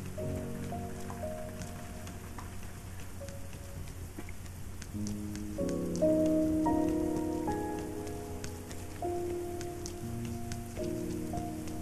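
Steady rain falls across a night scene in the video game Rain, a soft continuous hiss of drops on surfaces running beneath a gentle, sustained piano and synth melody.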